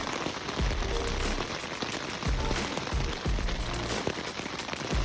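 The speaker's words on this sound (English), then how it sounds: "what we actually got was a full evening of pouring rain" Pouring rain drumming steadily on a tent at a campsite in Mesa Verde National Park, a dense, continuous patter close overhead with occasional heavier drips and no voices.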